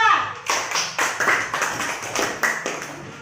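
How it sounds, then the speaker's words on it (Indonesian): Classroom applause for a group of students: a series of sharp, close claps and taps in uneven bursts, fairly loud, with a voice speaking faintly beneath. "Mari kita beri tepuk tangan untuk kelompok 2."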